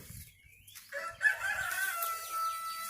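A rooster crows loudly nearby, a long rising call with a few fainter bird sounds before it.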